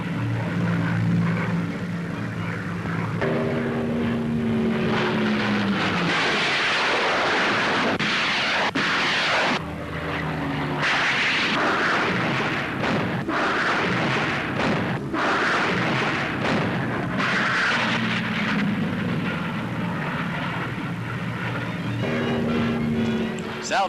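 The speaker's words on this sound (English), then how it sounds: "Salvos of 8 rockets go down from each plane onto large targets." Wartime newsreel footage of rocket-firing Typhoon aircraft loosing salvos of eight rockets onto large ground targets behind German lines: a loud, continuous roar of propeller engines and blasts with a droning tone, dense and unbroken throughout.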